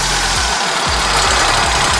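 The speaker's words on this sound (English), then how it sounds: "We're gonna leave it off choke because it's hot, and we're just gonna go ahead and start it." A hot stump grinder engine that has just been started: loud, steady, close mechanical running with a rough, knocking low rumble and broadband roar, no voices.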